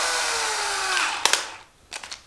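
A cordless drill driver drives screws into a wooden bed frame as its battery dies, the motor whine sliding steadily down in pitch and fading before two short, weak bursts at the end.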